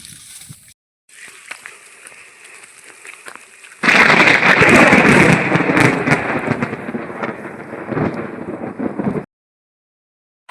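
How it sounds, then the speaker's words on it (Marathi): Heavy thunder rolls through a rainstorm over a rural goat farm, beginning after soft rain patter and a short hush, then a loud, sustained, booming rumble that lasts several seconds before cutting off. "विजांचा कडकडाट आणि ढगांचा गडगडाट सुरू झाल्यामुळे"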